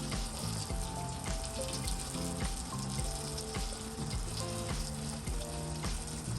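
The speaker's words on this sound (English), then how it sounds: "The water comes down even more smoother." Water flows down a painted homemade cement trench drain near a house as a steady, continuous splashing rush with a faint rhythmic gurgle, with no voices.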